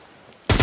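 A sudden loud burst of gunfire from the survival video game SCUM cuts in after a quiet moment, dense and close, with no voices over it.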